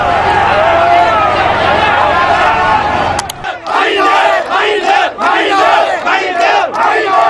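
Crowd screaming and shouting during the Sri Lanka crisis, a loud continuous roar of many voices that briefly drops and returns as dense agitated yelling, close and chaotic.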